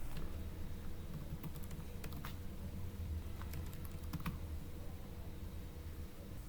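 Fingers tap out a username and password on a computer keyboard, a scattered run of crisp key clicks over a steady low background hum.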